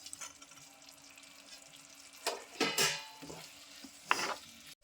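Fried paneer pieces being stirred into a masala in a pan, with a few bursts of scraping and sizzling clatter in the second half over a quiet kitchen background.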